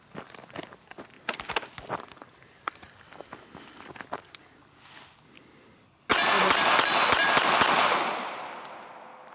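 Ruger LCP II pistol firing XTP hollow point rounds outdoors: a scatter of sharp cracks and clicks, then a loud sustained rumbling burst that fades away.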